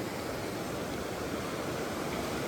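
Fast, deep mountain stream on a high Himalayan trek being forded, a steady broadband rush of turbulent water filling the scene, close and constant with no voices.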